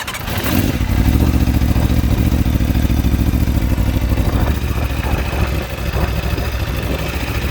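A stock-exhaust Kawasaki Ninja H2 and an Aprilia motorcycle run side by side, giving a loud, close, continuous engine rumble with a rough, clattering idle that holds steady throughout.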